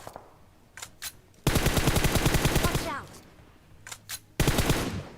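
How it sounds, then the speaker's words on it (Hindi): Automatic gunfire from a video game, with a few quick shots followed by two long rapid bursts of loud fire separated by brief gaps. "भक्ति झाड़ी पे 2 गोली चलाता हूँ, कोई नॉक हो जाता है"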